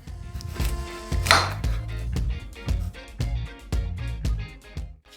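A knife slices firm pears on a board in a steady series of soft chops, about ten strokes, close and fairly quiet.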